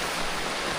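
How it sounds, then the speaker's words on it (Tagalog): Rain falls steadily in a dense, even hiss with no breaks and no voices, across a very short stretch. "Inulan na tayo."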